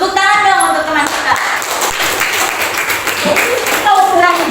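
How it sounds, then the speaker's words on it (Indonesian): Junior high school pupils clap for a classmate in an Islamic studies lesson, a loud, close burst of many hands clapping together over several seconds, with children's voices chattering through it. "Tepuk tangan dong untuk teman kita."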